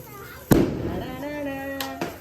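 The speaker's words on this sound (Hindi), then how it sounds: "पटाखा फोड़ेंगे, डर रहे अब" A sharp firecracker bang bursts out at a Diwali celebration, followed by a couple of quieter pops while voices carry on nearby.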